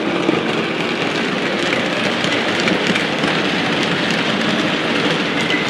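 A train locomotive passes close by with a loud, continuous rumbling roar that holds steady throughout, with no voices.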